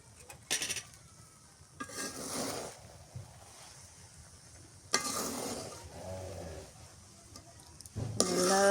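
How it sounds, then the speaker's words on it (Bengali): Fried onions being stirred into a pot of chicken curry, with scattered scraping and clattering bursts of a spoon against the pot, moderately loud, with quieter gaps between strokes. "পেঁয়াজ বেরেস্তাটা এবার উপরে দিয়ে দিই, দিয়ে একটু নাড়াচাড়া করে দিই"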